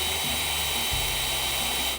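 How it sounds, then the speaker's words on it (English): Power drill boring pilot holes in an aluminum boat hull, a steady high-pitched whine with a low motor drone that shifts pitch partway through, close and continuous, with no talking. "So here we go, drilling pilot holes."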